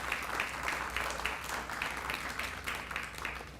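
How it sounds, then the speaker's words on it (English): Steady audience applause at a Booker T Washington graduation ceremony, a dense wash of many hands clapping at moderate distance throughout. "So give yourselves a round of applause for all of your hard work."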